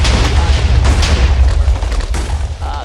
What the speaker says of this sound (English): look at that explosion all the way down to here